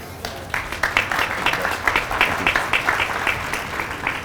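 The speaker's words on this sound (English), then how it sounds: "Let's give Barry and the team at Frontier another round of applause" Steady applause from a crowd at a Frontier Airlines flight announcement, dense clapping throughout with no pauses, fairly loud and close.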